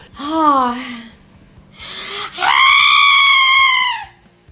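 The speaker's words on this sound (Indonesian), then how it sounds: "dengan nada laki di sana ia pun berteriak" A man screams in a couple of loud, drawn-out, strained bursts, with a short break between them. The voice is close and fills the whole moment, with no other sound around it.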